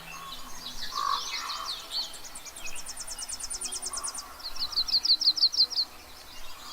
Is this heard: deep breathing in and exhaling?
no